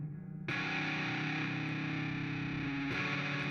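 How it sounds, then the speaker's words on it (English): Layered fuzz-distorted electric guitar tracks played through neck and bridge pickups sustain thick chords, entering sharply after a quiet start and re-striking near the end. "both of these tracks are fuzz tracks, just using I think a neck and a bridge pickup"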